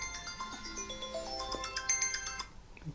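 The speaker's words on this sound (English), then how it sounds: "Apologies, that's my phone going off." A mobile phone ringtone goes off during a Magic: The Gathering game, a bright electronic melody of stepped tones playing for about two and a half seconds, fairly quiet, then cutting off abruptly.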